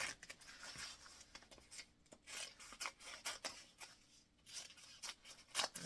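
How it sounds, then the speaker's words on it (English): Scissors snip through paper pages torn from a book for a folded-book tree craft, giving a run of crisp, close cuts and rustles in an uneven rhythm, with no talking. "Does anyone else like the sound of paper being cut?"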